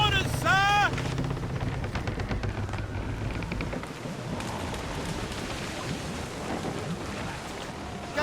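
Heavy cannon blasts and crackling gunfire boom out in a rough squall aboard a sailing warship in Assassin's Creed Rogue, over steady rain-like storm noise, with a shouted voice at the very start.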